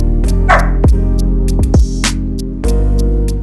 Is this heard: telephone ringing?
no